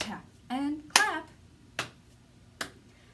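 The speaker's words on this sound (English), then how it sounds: "Tap and clap." Hands tapping and clapping during a children's circle-time song, a few separate sharp claps and taps spaced apart with a brief vocal sound at the start, close and fairly quiet.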